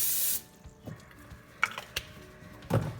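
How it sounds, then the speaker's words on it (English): Cooking spray hisses in one short burst from a can onto a baking pan, followed by a few faint clicks and soft knocks in a quiet kitchen. "just go ahead and spray this lightly"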